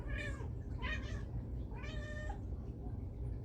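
A house cat meows three times in close succession, clear and nearby, with the third call longer and drawn out, over a quiet indoor background.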